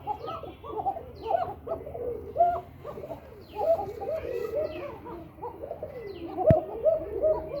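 Pigeons in a home loft coo in repeated throaty phrases, fairly close and clear, several birds calling in turn, with one sharp knock partway through.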